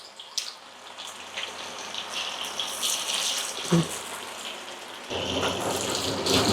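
Broiler chicken pieces frying in oil for chicken pakoda, a dense rain-like crackle and sizzle that holds steady and then grows louder and fuller near the end, with a clunk of a utensil in between, close, no talk.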